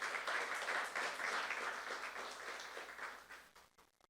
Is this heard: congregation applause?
yes